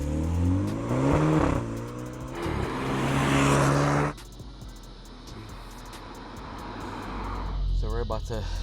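A tuned BMW F30 328i with the N20 engine heard from outside, revving loudly in a couple of rising bursts before settling to a lower idle, with people talking over it.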